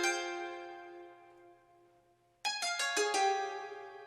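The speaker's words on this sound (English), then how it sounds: "this is a Ethno World 6 Zeng harp" A Zheng harp from the Ethno World 6 sample library plays a strummed run that rings out and fades, then after a brief pause a quick cascade of plucked notes strikes in, clear and close with no voices.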